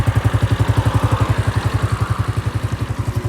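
A 2024 Honda CG 125 motorcycle idles close by with a fast, even, loud thumping beat and a slight rattle, its engine said to have a sound problem, with no voices.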